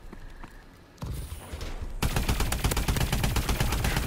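Gunfire in the video game Call of Duty Advanced Warfare, starting with sparse shots, then building to loud, dense rapid automatic bursts that continue to the end.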